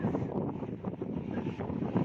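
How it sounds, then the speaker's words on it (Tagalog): Strong wind beside a large river buffets the microphone in a steady, rumbling roar, with no clear voices over it. "Napakalakas na hangin, malaki ang ilog."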